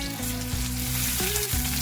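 Chopped onions hit hot oil with cumin seeds already fried in it, setting off a loud, dense, close-up sizzle that holds steady throughout.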